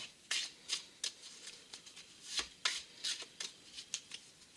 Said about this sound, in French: il va nous falloir un jeu de 52 cartes que le magicien peut mélanger